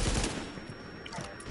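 Rapid automatic gunfire rattles close and loud throughout a short, hectic firefight in The Division, with shots overlapping into a continuous burst.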